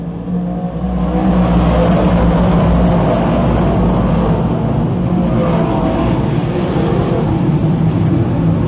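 Dirt Car 358 Modified race cars roar off on a green-flag start at Can-Am Speedway, a dense, loud wall of engines building and sustaining across the field with no voices on top.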